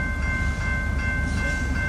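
A train passes near Zelly Park in Moorestown, its horn sounding one loud, sustained, steady tone over a constant low rumble of rolling cars.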